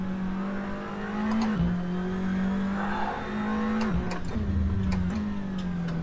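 A SEAT Leon TCR race car in Assetto Corsa holds a steady, loud engine drone, with its pitch dipping briefly at gear shifts before climbing again, plus faint ticking clicks above it.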